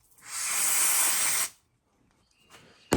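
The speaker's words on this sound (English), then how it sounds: "this float is just really grimy, so I'm gonna spray it off." A close, loud aerosol spray of cleaner onto a grimy carburetor float hisses steadily for over a second, then stops, followed by faint handling noises and a sharp click.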